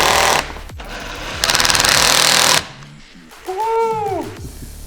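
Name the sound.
power drill driving the last screws into truck camper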